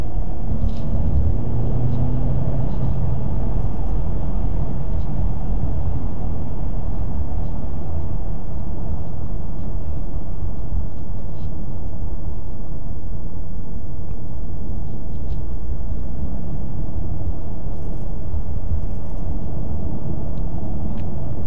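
A 2016 Ford Mustang EcoBoost with the 2.3L engine drives on the road, heard from inside the cabin as a loud, steady low rumble that runs throughout with no speech over it.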